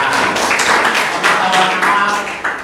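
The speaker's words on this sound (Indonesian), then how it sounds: "Baik, tepuk tangan." A classroom claps together after a lesson discussion, steady close applause with a loose rhythm that keeps going evenly for a few seconds.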